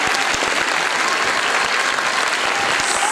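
Loud, vigorous applause from a large crowd at a school show, continuous and energetic, with a few sharper claps standing out.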